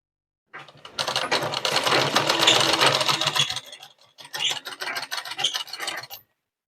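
A sewing machine stitches the fitting seam of a suit in two close, buzzing runs separated by a short pause, with silence before and after and no voices.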